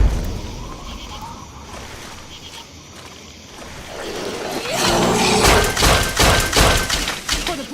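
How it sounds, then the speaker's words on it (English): An explosion in Fallout 3 or New Vegas swells from a low ambient rumble into a loud, broad blast with crackling, thudding debris that lingers for several seconds. "Mind the explosion!"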